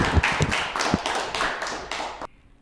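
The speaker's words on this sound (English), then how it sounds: "Let's give him another round of applause." A school audience gives a short burst of applause, a dense patter of hand claps with a few sharp louder claps that stops abruptly after about two seconds.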